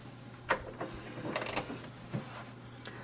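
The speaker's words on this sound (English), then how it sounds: "So here we can see the printer has printed the welcome sheet." An HP Envy 6022 printer printing a welcome sheet, a quiet mechanical whir with intermittent clicks and paper-feed thumps over a low steady hum.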